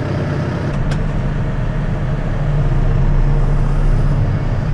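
A farm tractor engine runs steadily nearby, a continuous loud low rumble and drone that holds evenly throughout with a brief faint high click near the start, with no talking.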